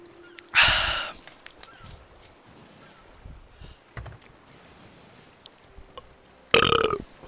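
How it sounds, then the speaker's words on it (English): Two loud, abrupt burps in the Sea of Thieves pirate sailing game, one early and one near the end, with quiet ship and ambient noise in between. "Just a burp."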